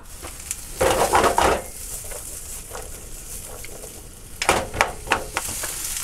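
Food frying in a pan while a homemade double cheeseburger with bacon is prepared: a steady sizzle with louder crackling bursts near the start and again toward the end, plus a few faint clinks, with no talking.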